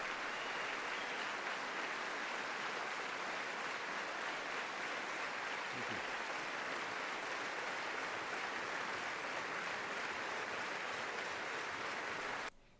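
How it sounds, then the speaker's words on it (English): Sustained standing applause in the US Congress chamber during Netanyahu's speech, a thick, even wash of many hands clapping for over ten seconds, heard at a slight distance before it cuts off abruptly. "Like, look, they're just standing and clapping. It's like going on for 10 seconds."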